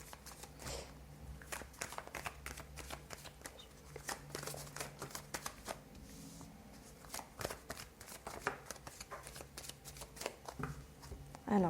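Tarot cards are shuffled and drawn in a steady run of papery riffles and flicks, close and fairly quiet, with a faint voice underneath at moments.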